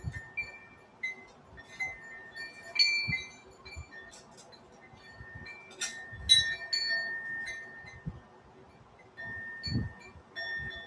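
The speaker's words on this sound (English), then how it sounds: "stupid chimes" Chimes ring in scattered, bright clinks and short tinkling runs, with soft low thumps between them, fairly quiet overall and with no talking.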